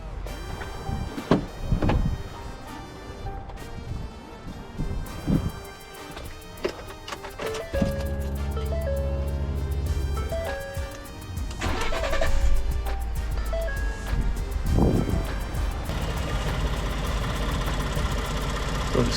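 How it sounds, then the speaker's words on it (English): Ford F-150 EcoBoost pickup fitted with a Turbosmart blow-off valve cranks over around the eight-second mark and settles into a steady, fairly loud idle, preceded by scattered clicks and shop noises with no talking. "we're gonna start the truck, make sure there's no leaks from it,"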